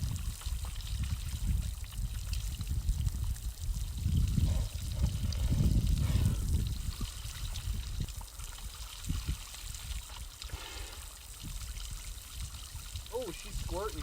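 A geothermal outdoor shower in Iceland sprays and splashes water steadily nearby, louder midway through, while a person talks over it.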